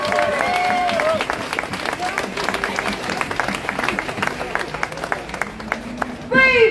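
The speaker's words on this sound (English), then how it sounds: "Big round of applause, guys." An outdoor crowd at a Free Palestine rally in Melbourne claps and cheers, a dense patter of applause mixed with voices and shouts that carries on steadily throughout, with a louder burst of cheering at the very end.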